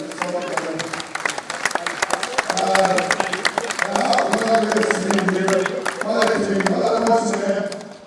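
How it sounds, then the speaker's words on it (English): A room applauds a county darts team at the Inter Counties A Championships men's final, steady clapping from a modest crowd that runs for about eight seconds with a voice talking over part of it. "a round of applause for everybody."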